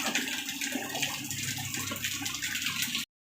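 Water pours steadily through a homemade filter setup, a continuous close rushing and splashing flow that runs loud and unbroken before cutting off abruptly near the end.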